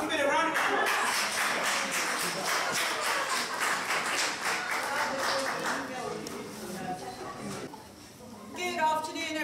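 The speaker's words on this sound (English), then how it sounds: "Give it a round of applause." An audience at a church health expo breaks into a round of applause that is loud at first and gradually fades, with voices talking over and after the clapping.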